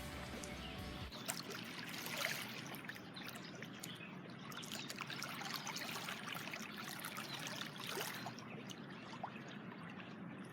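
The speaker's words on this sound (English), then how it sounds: "it's the most peaceful sound. Like, just the water and the birds." Steady trickling water runs throughout, with scattered bird chirps and calls over it, fairly quiet and continuous.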